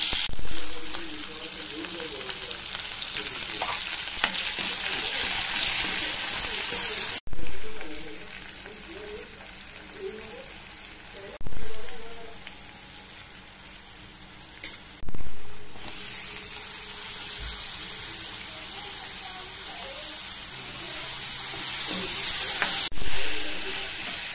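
Onion hits a pan of hot oil already holding mustard seeds, cumin and asafoetida, setting off a dense, continuous sizzle that swells with each new addition and keeps hissing loudly throughout.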